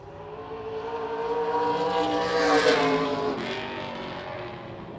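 A race car on a qualifying run at La Crosse Speedway roars past, its engine note swelling to a peak and then fading as it moves away.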